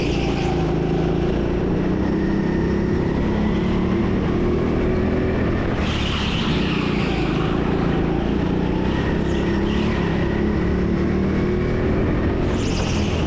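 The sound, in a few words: go-kart driving a flying lap at TeamSport Sheffield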